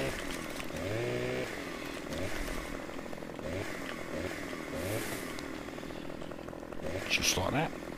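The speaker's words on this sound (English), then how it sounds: "Just run the old chainsaw along" A chainsaw in Farming Simulator 15 cuts through a tree, its motor droning steadily for the whole stretch with pulsing load changes and a brief louder rev near the end, close and fairly loud.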